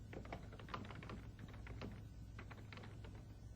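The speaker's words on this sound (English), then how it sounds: "I can also click at the end of an entry and I can begin typing." Soft, rapid keystrokes clatter on a computer keyboard in a quick, uneven rhythm, faint and close with no voices.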